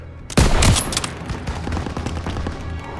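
A burst of rapid gunfire in the WWII shooter Call of Duty: WWII during the liberation of Paris, a loud volley up close followed by scattered shots trailing off behind it.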